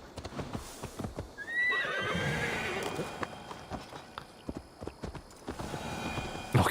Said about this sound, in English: Should probably call me horse.